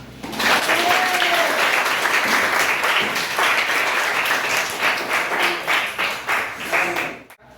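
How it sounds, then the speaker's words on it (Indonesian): Students in a classroom clap in a lively burst of applause during an Islamic prayer lesson, a brief voice rising over the clapping before it thins out and stops. "Tepuk tangan."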